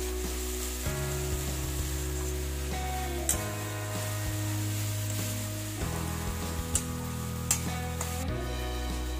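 Sun-dried lentil badi fries with greens in a pan, a steady hiss and crackle running continuously with a few sharp clinks of a utensil against the pan, fairly close.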